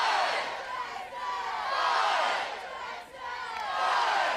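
Longhorn fans at a college baseball game in Austin, Texas, keep up loud, sustained crowd cheering and yelling, swelling and dipping briefly twice across the stretch with no clear talk over it.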